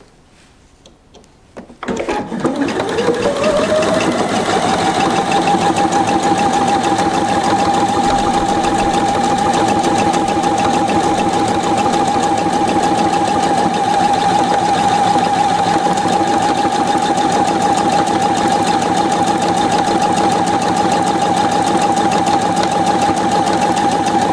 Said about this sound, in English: let's see how it's working on denim